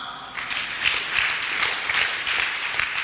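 A church congregation applauds in a steady, dense wash of clapping that holds at an even level throughout, filling the room without any voices standing out.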